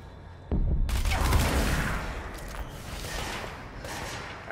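Gunfire in the shooter game Control: one sharp loud blast near the start, then a dense rumbling burst of shots with booms and crackling that stays loud and close before thinning slightly toward the end.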